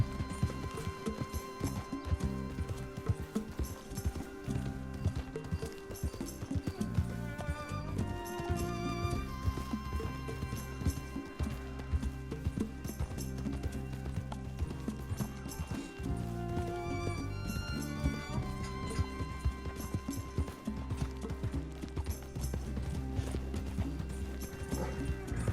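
Horse hooves clip-clop in Red Dead Redemption 2, a steady galloping rhythm running under loud game music and ambience throughout, with no clear speech.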